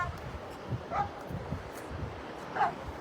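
A dog on a wet sandy beach gives a couple of short, soft yips at close range, the sounds brief and light against a low background rumble.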